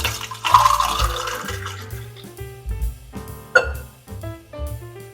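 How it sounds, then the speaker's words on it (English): A margarita pours steadily into a glass over ice, a splashing, trickling stream with a brief clink near the end, over faint background music. "pour in the marg"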